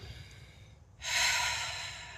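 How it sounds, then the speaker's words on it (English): One slow exhalation during a yoga breathing exercise, a soft airy rush that starts suddenly after a quiet moment and stays steady, heard close and alone. "Breathing in through the nose and out through the mouth, releasing all of the tension"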